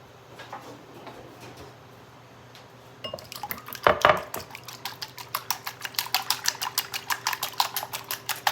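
Wire whisk beating eggs seasoned with salt and pepper in a bowl for a breakfast burrito, starting after a quiet stretch as a few clinks, then a steady fast run of bright metallic taps against the bowl, close up.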